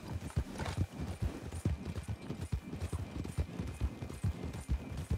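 A horse's hooves clip-clop in a steady, even rhythm, the sharp knocks close and fairly faint against a light background hiss.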